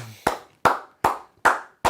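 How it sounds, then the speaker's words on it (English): Five slow, evenly spaced hand claps ring out clearly and alone, a deliberate polite golf clap from a sports reaction audience. "let's give them a nice little golf clap"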